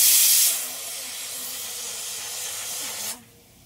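A pressure cooker cooking mutton for biryani lets off steam, a loud hissing whistle that hangs steady for about three seconds before it cuts off suddenly, with a faint tone underneath.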